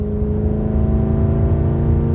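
A BMW E39 540i V8 engine drones steadily under load in sixth gear, a low smooth hum building slightly as it pulls, with no voices over it.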